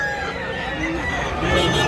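A bullstag chicken crows briefly amid a murmur of nearby voices, the call drawn out and moderately loud against the background chatter.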